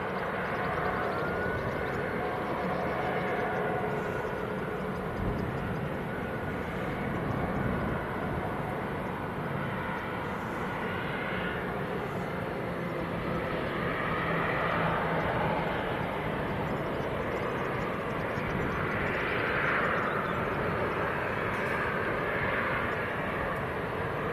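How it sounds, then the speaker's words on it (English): Jet2 airliners pushing back at Leeds Bradford Airport, heard as a steady, loud, broadband jet engine roar that holds throughout without pause. "I think we've got three Jet 2s pushing back at the moment."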